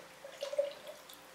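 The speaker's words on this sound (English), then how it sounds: "pour in, swirl it around and now pour it out like that." Liquid glaze is poured and swirled inside a stoneware pot, giving a soft, faint sloshing that swells briefly in the middle and then settles back into quiet.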